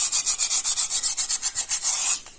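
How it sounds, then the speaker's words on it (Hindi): Sandpaper rubs over a dried clay craft piece in quick regular back-and-forth strokes, about fifteen close, loud rasping passes before it stops. "now you can sand it with sandpaper for better smoothness"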